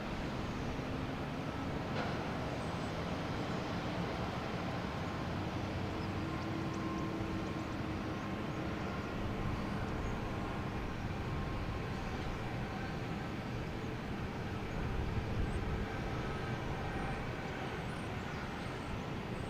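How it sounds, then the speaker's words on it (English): A JetBlue Airbus A220 airliner on landing approach at Boston Logan Airport, heard as a broad, steady engine roar with faint tonal whine, holding even loudness throughout with no voices. "Next coming in is JetBlue, an A220"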